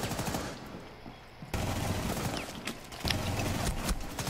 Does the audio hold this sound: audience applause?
no